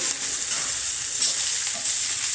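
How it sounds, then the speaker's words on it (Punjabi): Onions frying in a hot tempering for dhaba-style paneer bhurji, giving a dense, even sizzle with faint stirring underneath, close and steady with no voices. "ਪਿਆਜ਼ ਬਿਲਕੁਲ ਠੀਕ ਭੁੰਨ ਹੋਗੇ"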